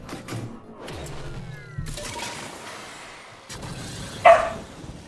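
A pup gives several short, soft barks and yips, then one sharper, louder bark near the end, alone and close, against a quiet room.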